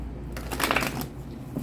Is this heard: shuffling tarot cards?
yes